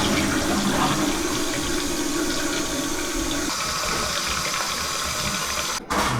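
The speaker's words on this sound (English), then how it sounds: "First flush test, manual flush." A TOTO Drake toilet gives a manual flush, a loud close rush of swirling water that carries on steadily and then shifts toward the quieter refill near the end.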